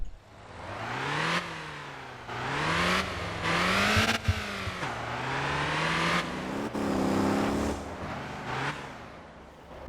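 A 90-horsepower car engine in the driving game Motor Town revs up and down repeatedly, its pitch climbing and dropping in several rising surges, loud and close with no talking.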